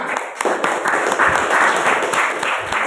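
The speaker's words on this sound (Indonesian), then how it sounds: "Kita berikan aplaus untuk kelompok 5." A classroom group applauding group 5, a steady burst of many hands clapping that lasts about three seconds, close and fairly loud with no talk over it.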